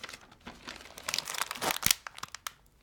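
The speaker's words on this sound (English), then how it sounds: "I'm going to take a scissors and I'm going to cut it here." Crinkly 9 mil plastic ground vapor barrier sheeting rustles and snaps as scissors cut through it, a series of close, sharp crackles and tearing sounds.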